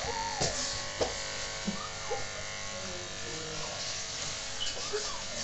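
An electric shaver buzzes steadily and close up while shaving a head at home, with a constant drone broken by small bumps as it moves over the scalp. People talk softly under the buzz.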